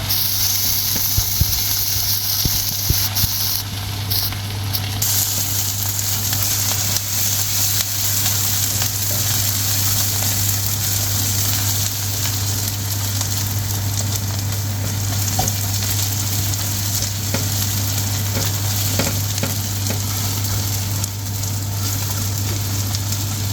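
Whole black peppercorns and coriander seeds fry in oil in a pan, a steady close sizzle with a few stirring scrapes, no voices.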